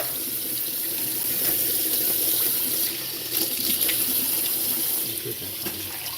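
Tap water runs steadily into a kitchen sink as canned Jamaican ackee is rinsed off, a continuous close splashing hiss with slight shifts as the flow hits the food, lasting several seconds.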